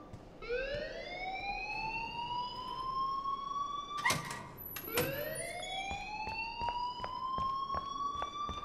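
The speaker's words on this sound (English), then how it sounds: "please turn off that alarm since that's your job" An alarm blares in the video game Life is Strange. Loud rising siren tones sweep upward and repeat, with a brief gap near the middle, and sharp regular beeps sound alongside.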